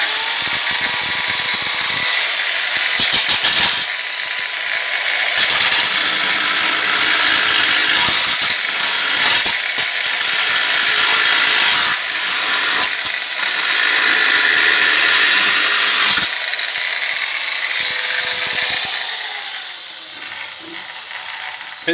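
A handheld power tool fitted with an old welding inspection tool bores out and enlarges a hole in a bronze piece, giving a loud, continuous grinding whine with repeated brief pauses and changes in pitch over about twenty seconds.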